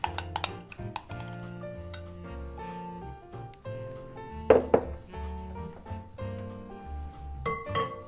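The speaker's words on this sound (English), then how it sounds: "we're going to add in the shortening into the large mixing bowl here. And then we're going to add in all of the dry ingredients and mix that together" Shortening and dry ingredients are mixed in a large bowl for a 1950s maraschino cherry cake, with scattered clinks, scrapes and utensil knocks against the bowl under steady background music.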